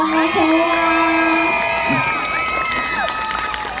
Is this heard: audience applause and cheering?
yes